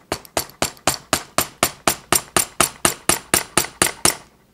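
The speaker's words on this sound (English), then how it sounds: "now I take a small hammer, and let me zoom in on this. There we go. And I'm gonna give this a few whacks." A small hammer strikes a tire-and-spark-plug shoulder armor piece in about eighteen sharp, evenly spaced metallic whacks, each ringing briefly before the next, loud and close with no voices.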